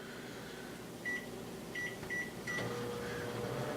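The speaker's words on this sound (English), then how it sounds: "Stick them in the microwave for about 30 seconds, and you'll be good to go." A microwave oven runs with a steady low hum and fan whir, with a few short faint tonal beeps partway through and no talking.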